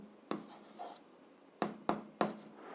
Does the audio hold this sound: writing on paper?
yes